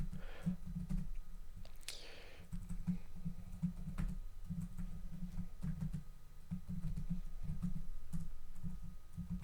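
Typing on a computer keyboard while entering Vim editor commands, a steady run of close key clicks through most of the stretch beside a constant low hum, with a brief louder noise near the start.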